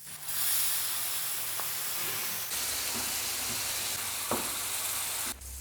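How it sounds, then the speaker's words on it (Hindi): Ground spices fry in tomato puree for keema in a pan, a steady soft sizzle and hiss with a few faint clinks from stirring, heard alone without talk. "टमाटर की प्यूरी डालने के बाद मसाले को हम भून लेंगे"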